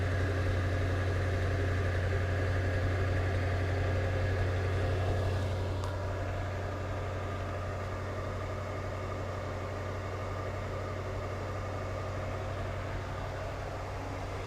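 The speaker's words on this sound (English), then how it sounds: "I put dual exhaust on this with resonators" A 1972 Lincoln Mark IV idles steadily through dual exhaust with resonators, a low, rumbling exhaust drone that stays constant, settling slightly quieter partway through.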